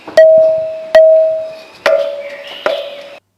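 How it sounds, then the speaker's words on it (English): Four separate strikes on a stone pillar each ring out with a clear, sustained tone like a temple bell that slowly fades, close and distinct, with no talking. "here's the sound of a temple bell"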